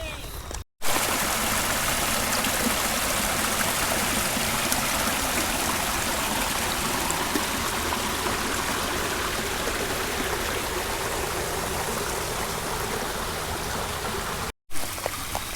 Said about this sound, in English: this is a rather wide creek crossing